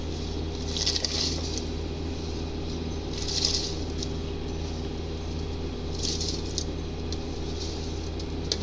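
Rice poured into a pot of boiling water while cooking mandi: a soft, steady bubbling and simmer with a few brief splashy bursts, close and fairly quiet, no talking.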